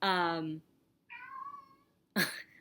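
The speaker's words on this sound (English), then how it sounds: "that's my cat." Three distinct cat meows, close and loud, separated by short pauses; the second is softer and longer, the last sharp and rising.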